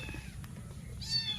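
A stray kitten cries out for food with a pair of thin, high meows, the second rising sharply near the end, faint and close over a low background rumble.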